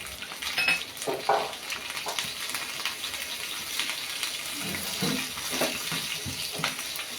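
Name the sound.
green chillies frying in hot oil with mustard seeds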